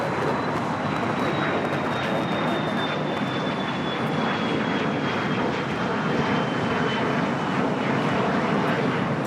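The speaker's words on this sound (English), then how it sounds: "This is an Embraer Legacy 500." Embraer Legacy 500 business jet at Los Angeles International Airport, a steady, loud broadband engine roar with a slowly falling whine held throughout, continuous and fairly close.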